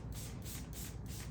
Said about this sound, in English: this is a YS Park spray bottle